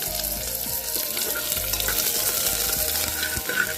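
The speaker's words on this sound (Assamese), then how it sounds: "তো পিঁয়াজখিনি এনেদৰে 1 মিনিটমান ভাজিলোঁ" Onions frying in a pressure cooker for egg biryani, a loud steady close-up sizzle with occasional stirring scrapes throughout.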